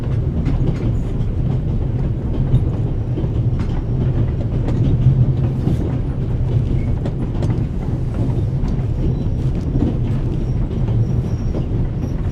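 A moving train rumbles steadily inside the video game The Raven Remastered, a dense low-pitched roll with faint rhythmic wheel clatter, continuous and close, no speech.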